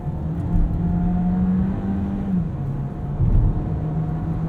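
A 2022 Volkswagen Taos, front-wheel drive, hums through a roundabout from inside the cabin, its steady engine drone and tyre roar dipping slightly as the car turns, with no talking over it.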